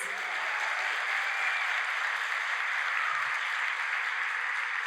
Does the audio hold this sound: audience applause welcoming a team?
yes